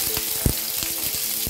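Diced onion cubes with green chillies and ginger sauté in a hot pan for chilli chicken, a loud steady close sizzle with faint stirring knocks, and no talking.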